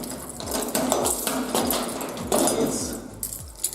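A key scrapes, clicks and rattles close up as it is worked into the door lock of a storage unit in winter, with a series of small metallic knocks and jangles over about four seconds.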